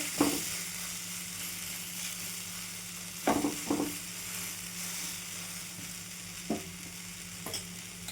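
A quick wheat-flour breakfast cooks in a pan, giving a steady soft sizzle throughout, broken by a few sharp knocks and scrapes of a spatula against the pan; no one speaks.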